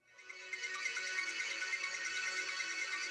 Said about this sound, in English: My ringtone right now is this right here.